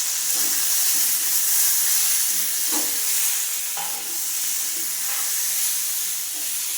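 Prawn curry (chingri chorchori) frying in a pan with a steady broadband sizzle and hiss, while a spoon gives occasional soft stirring scrapes throughout.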